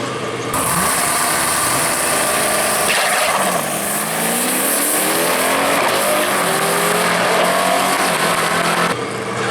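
Ford Mustangs, one old and one new, launch in a drag race at a raceway, with loud engines revving and climbing in pitch, tire squeal and a roaring pass.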